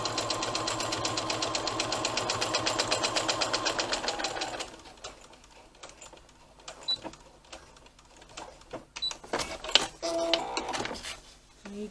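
A sewing machine top stitches across a cotton tote bag in a fast, steady mechanical run lasting several seconds, then stops, leaving scattered handling clicks and rustles nearby.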